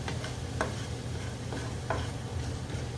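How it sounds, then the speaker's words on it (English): Shallots being stirred in a hot pan, softening with a quiet steady sizzle and a few soft scrapes of the spoon against the pan, heard alone. "Mix that all up. Get the shallots nice and soft and transparent."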